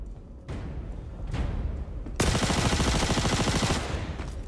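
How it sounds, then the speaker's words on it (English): Rapid submachine gun bursts in a Star Citizen firefight, starting as short separate bursts and then running into a dense, loud, sustained rattle of fire near the listener. "It's like a submachine gun."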